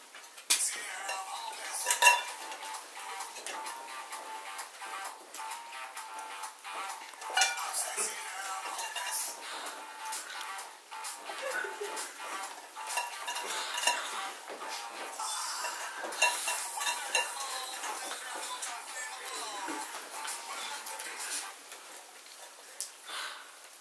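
A spoon scrapes and clinks around inside a metal pot in a steady, continuous stirring rhythm, with occasional louder knocks against the rim, fairly close and at moderate volume throughout.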